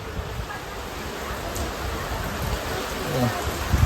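Steady rain falls in a dense, even hiss, with a few nearby drips pattering on a surface.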